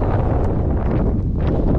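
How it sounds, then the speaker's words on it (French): Steady wind buffeting the microphone as a light headwind hits a runner during an easy endurance segment of marathon training, a continuous broadband rumble with no talk. "il y a un petit vent de face"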